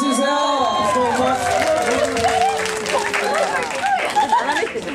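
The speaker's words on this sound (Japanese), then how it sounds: "大きい拍手お願いします" A crowd at a concert applauds with a wash of clapping and some cheering. Voices and chatter run through it, with rising and falling tones over the noise.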